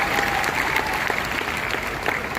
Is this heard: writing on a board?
no